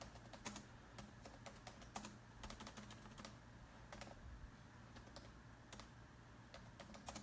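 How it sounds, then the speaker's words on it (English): Quick bursts of clicks from a computer keyboard, typed in uneven runs with short pauses, close and fairly quiet, with no voice over it. "let me just type this in here"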